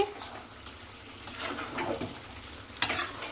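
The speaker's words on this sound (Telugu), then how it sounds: "మంచిగా ఫ్రై అయిందా అయితే నిదానంగా సిమ్లో పెట్టి అయితే తిప్పుకుంటున్నామండి." Chicken fry stirred in a pan over a low flame: soft scraping and light utensil clinks over a faint sizzle, with one sharper clink near the end.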